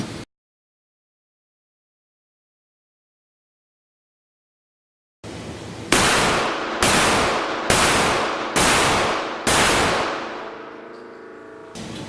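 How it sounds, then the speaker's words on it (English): Five loud, evenly spaced shots from a CZ 75 B SA pistol fired at an outdoor range, each crack followed by a short decaying echo, with no talking. "We're gonna shoot a full mag, get a 5-round accuracy group."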